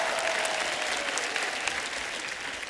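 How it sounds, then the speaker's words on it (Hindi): An audience on an Indian TV comedy show claps loudly for arriving guests, a sustained, even wash of applause with scattered sharper claps throughout. "एक बार जोरदार तालियां हमारे मेहमानों के लिए।"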